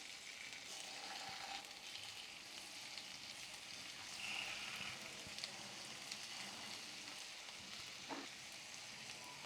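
Prawns frying in ghee over a low flame give a steady, soft sizzle that holds without a break, fairly faint and close, with no voices.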